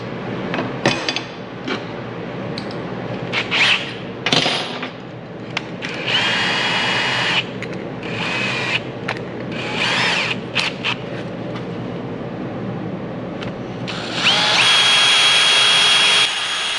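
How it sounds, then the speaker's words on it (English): Power drill boring holes in a steel plate for mounting a switch, heard as repeated close, loud bursts of whining, grinding drilling separated by short pauses, with a longer steady run near the end. "So let me get some holes drilled and we'll head back over."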